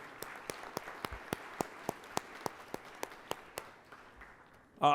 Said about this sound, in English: Let's give them a round of applause for helping us today.